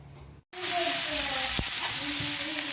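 Tomato, onion, coriander and garlic fry for mushroom curry in a steady, loud hissing sizzle that starts suddenly and runs throughout, with a brief utensil knock and faint voice-like tones underneath.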